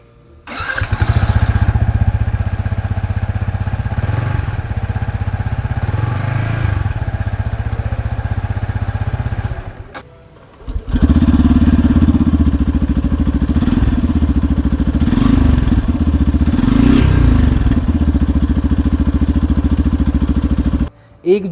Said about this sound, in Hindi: अभी दोनों का ही एग्जॉस्ट नोट मैं आपको सुना दूँगा।